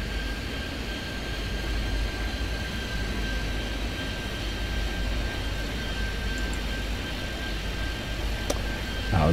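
Small propeller planes in the airport game Airport Madness 3D: a continuous, steady engine drone with a faint constant tone, moderately loud and uninterrupted, without talking.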